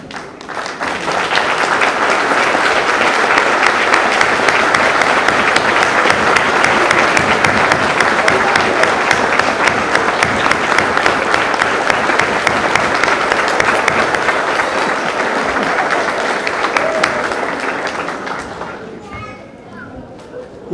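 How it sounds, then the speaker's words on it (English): A school crowd at an elementary school's 100th anniversary celebration applauds for retired principals and teachers, a loud sustained wash of clapping lasting about eighteen seconds before fading out. "please stand up and get a round of applause"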